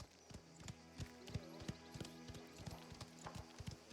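In the video game Mafia: The Old Country, a horse's hooves clip-clop in a steady walking rhythm on hard ground near stables, faint and continuous.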